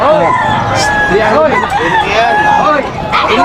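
Chickens cluck and crow amid a busy, noisy crowd, with people talking throughout.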